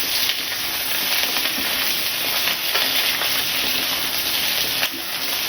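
Whole onions frying lightly in a pan for chicken stew, a constant close hiss of sizzling oil with faint stirring scrapes.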